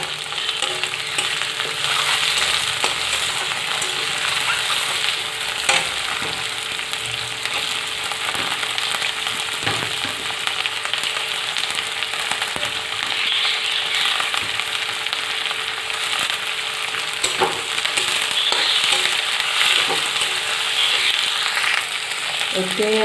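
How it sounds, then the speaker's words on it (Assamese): Onion, cabbage and carrot fry in hot oil in a pan and are stirred now and then, a loud, steady sizzle close by broken by occasional scraping clicks of the utensil, with no talking. "পিঁয়াজটো বেছি ভাজিব নালাগে, এনেই এবাৰ দুবাৰ লৰাই দি ইয়াতে বন্ধাকবি, গাজৰ দি দিম"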